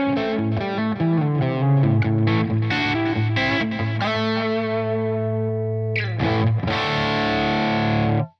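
A distorted electric guitar through a ToneX ONE pedal with delay on: chords and single notes ring with chorused, echoing tails, loud and close, alone without talk.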